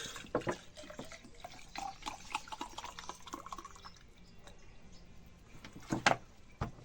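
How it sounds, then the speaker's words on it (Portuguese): Water runs and splashes while a plaster mug mold is filled to weigh it down, a steady trickle with a few louder splashes and drips near the end. "E eu encho com água para dar o peso."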